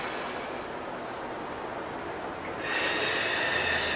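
A steady exhaled breath during a standing postnatal Pilates workout, a soft hiss that grows louder and breathier partway through, close up and alone.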